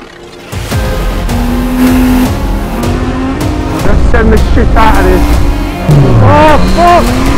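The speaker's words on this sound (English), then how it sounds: "It's Formula One cars!" Formula One race cars scream past on a track, high-revving engine whines rising and falling as each car approaches and recedes, loud and close, with excited voices shouting over them.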